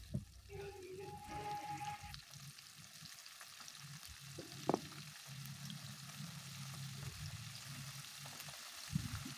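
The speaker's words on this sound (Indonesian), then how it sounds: "Mari kita goreng. Setelah minyaknya panas, masukkan satu persatu jamurnya." Mushrooms fry for crisps in plenty of hot oil with a steady crackling sizzle, punctuated by occasional clinks and stirring noises, a faint tone at the start.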